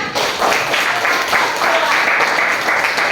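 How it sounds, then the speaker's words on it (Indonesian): Students in a classroom give a burst of dense, continuous applause after a group presentation on electrical energy, loud and close for a few seconds. "Ayo beri tepuk tangan."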